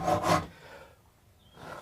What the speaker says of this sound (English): I had to stop rasping while I said that, just in case I slipped and stabbed myself by mistake